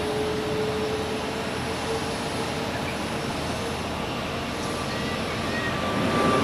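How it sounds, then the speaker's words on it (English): An Airbus A330 lines up on runway 16 at Zurich Airport, a steady broadband jet-engine roar heard from a distance that holds evenly throughout. "The first of those 3 A330s is now lining up on runway 16."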